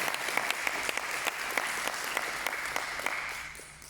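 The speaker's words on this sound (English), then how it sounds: "Please give him a round of applause." Audience applause at a citizenship ceremony in a school hall: dense, steady clapping from many hands filling the room, holding evenly before tapering slightly at the end.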